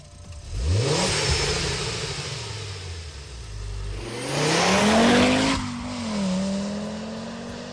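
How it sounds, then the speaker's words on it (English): A powerful Audi turbocharged five-cylinder engine revs hard, rising and falling in pitch through several loud sweeps, snarling up then settling back down, with no talking. "Audi provided a sound clip of the engine to show off the distinctive 5-cylinder note."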